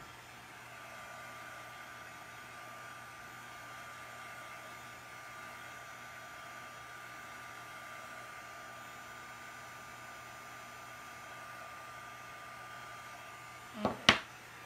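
A hair dryer blowing on home decor items runs at a steady, even drone the whole time, then two sharp clicks sound right at the end as it is handled or switched off.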